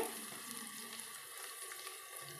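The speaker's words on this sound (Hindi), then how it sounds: "तो ये प्याज हल्का हल्का सा भुन चुका है" Onions sizzle steadily in a hot pan for a dhaba-style potato and eggplant curry, a continuous, fairly soft frying hiss with faint crackles and no voices.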